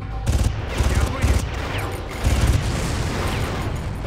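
Explosions and gunfire in the video game Far Cry, with a few heavy booming bursts and rattling shots in quick clusters, loud and close, followed by a lingering rumble.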